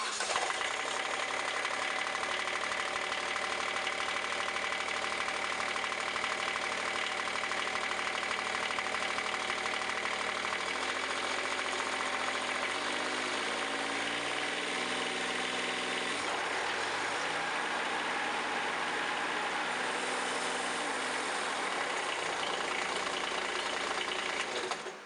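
A Gravely Pro Turn 460 mower engine runs after a PTO replacement, a steady droning idle with a buzzing tone that shifts pitch up and down a few times as the speed changes, nearby and without talk.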